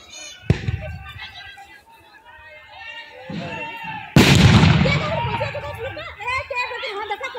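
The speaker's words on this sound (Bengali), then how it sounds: "বোমার পর বোমা পড়লো কেষ্টগড়ে।" Bombs blasting in Keshtogarh, Birbhum: one sharp bang, then a second, much louder blast whose heavy rumble carries on, amid loud, agitated shouting and crowd voices throughout.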